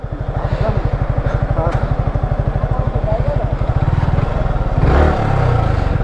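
Yamaha R15 V4 motorcycle being ridden, its engine putting out a steady, loud, rapid thrumming pulse close by, swelling briefly near the end, with voices talking faintly.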